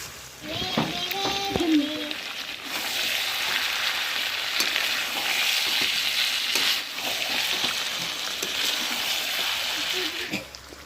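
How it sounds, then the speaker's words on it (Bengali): Fried potatoes sizzle as they are stirred into goat meat curry in a pan, a steady close hiss with scraping stirring, while a voice speaks briefly at the start. "এখন ভেজে নেওয়া আলুগুলো দিয়ে দিচ্ছি আলুগুলো দিয়ে আরও তিন থেকে চার মিনিট সময় নিয়ে কষিয়ে নেব"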